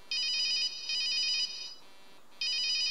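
Mobile phone ringtone in a horror video game, a bright electronic trill sounding in repeated bursts with a short gap between them, clear and alone without speech.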